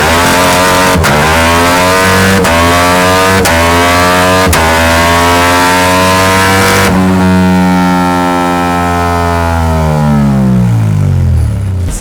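Engine on a dyno with a Termignoni exhaust, loud and close, blipped in several sharp revs before climbing into a long sustained pull that winds down smoothly at the end.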